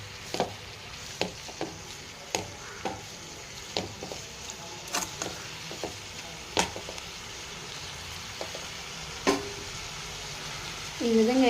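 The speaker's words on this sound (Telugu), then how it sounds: "ఇది ఒక 10 మినిట్స్ అలాగే తిప్పుతూ కుక్ చేసుకోవాలండి" Amaranth greens stir-fried in a pan, repeated crisp spatula taps and scrapes at a roughly regular pace over a quiet background sizzle, close, with no one talking.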